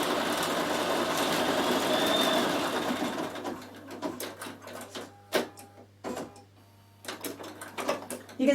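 A Bernina 7 Series embroidery module stitches a lettering design with a loud, steady mechanical buzz for about three and a half seconds, then halts into quieter intermittent clicks and taps.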